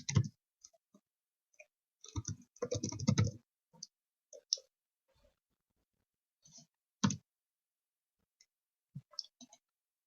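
Bursts of clicky keystrokes on a computer keyboard as a name is typed, scattered short clusters separated by pauses, close and dry with no talking.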